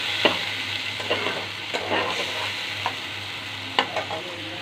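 Teasel gourd stirred with salt and turmeric powder in a frying pan, a constant soft sizzle broken by several sharp spatula scrapes and knocks against the pan, close up and without talk.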